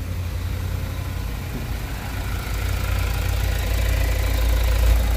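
A Mazda BT50 engine idling steadily after a dual turbo replacement, a loud, close, low rumbling drone that holds even and swells slightly toward the end, with no talk over it.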